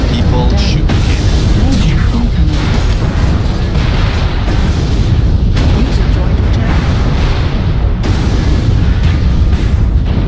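Cannon fire in a battle video game, loud booms and blasts packed together over a constant roar of explosions, artillery and gunfire, dense and continuous throughout.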